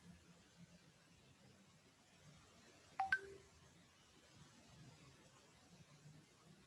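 A brief run of telephone dialing tones sounds at moderate distance as a phone call is placed, a few quick beeps standing out once against a quiet, hissy room background.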